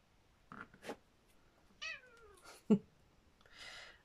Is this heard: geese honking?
no